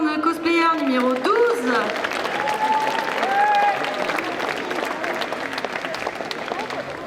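Sustained crowd applause at a cosplay contest and prize ceremony at a Japan pop culture show in Troyes, honoring a numbered cosplayer; dense steady clapping fills the room while voices talk and call out over it.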